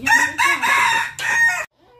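A rooster crows in a long, loud call with harmonic, rising-and-falling phrases, broken by two short pauses, then stops abruptly into near silence, with no talking over it.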